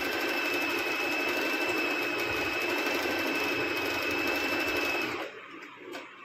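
A Merritt 1409 sewing machine stitches fabric with a steady, loud, continuous hum for about five seconds, then stops abruptly, leaving quiet room sound.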